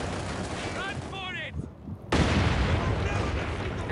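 Gunfire in the Company of Heroes 2 strategy game during a 3v3 Soviet match, loud crackling shots and bursts that cut out briefly and then return, with someone talking over them.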